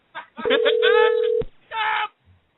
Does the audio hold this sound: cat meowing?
no